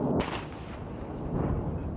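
A loud, sharp bomb explosion hits near Bakhmut, followed by a deep rumbling roll that swells again toward the end, heard from a distance outdoors.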